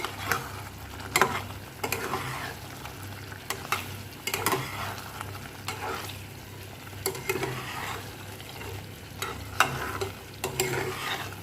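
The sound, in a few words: fried paneer being stirred and cooked in a pan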